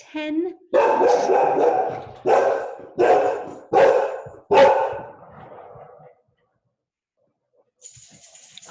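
A dog barks at someone arriving at the door, five loud close barks in quick succession after a brief yelp, then silence and a faint voice at the end.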